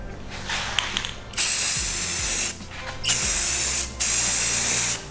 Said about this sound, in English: let's start spraying.